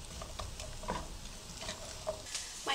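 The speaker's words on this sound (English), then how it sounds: "I'm going to cook these for 2 to 3 minutes until the onions get nice and soft." Chopped onion frying in cooking oil in a skillet, giving a faint, steady sizzle with scattered soft crackles and light stirring scrapes, no talking.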